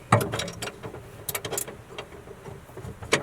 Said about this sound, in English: had to go get my other wrench. Gonna go ahead and tighten this hole down